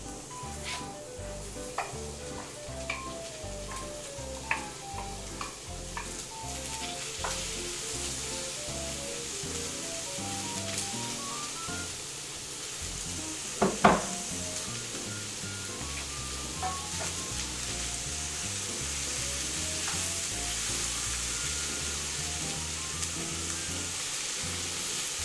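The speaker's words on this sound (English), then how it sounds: "Hear that sizzle?" Carrots and mixed vegetables sizzle steadily in a hot pan, a continuous close frying hiss with occasional stirring scrapes and clinks, and no talk.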